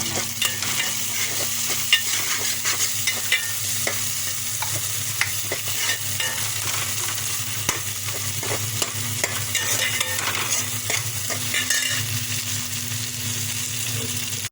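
Spices being stirred into a potato masala curry in a hot pan, a continuous loud sizzle with frequent scraping and clinking of a spoon, close and steady with a low hum underneath.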